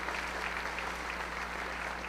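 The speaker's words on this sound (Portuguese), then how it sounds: "uma salva de palmas para essa galera." A church congregation applauds a group of members in a steady, even wash of clapping that holds at moderate level throughout, with a constant low hum beneath it.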